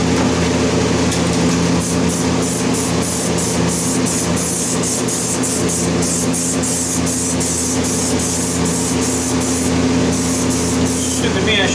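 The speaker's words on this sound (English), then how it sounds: "I think we're ready to spray." Aerosol spray can, shaken for a long time, sprays steadily and loudly in a long continuous hiss with short bursts, over a constant engine-like hum in a welding workshop.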